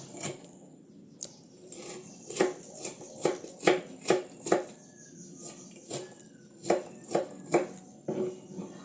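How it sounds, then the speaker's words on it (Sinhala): A knife chopping onions on a board, a series of sharp close taps in uneven bursts, loud in a quick run mid-way, with quieter gaps between. "මේ විදිහට බීලුණු ටික කපාගෙන එකතු කරගන්න."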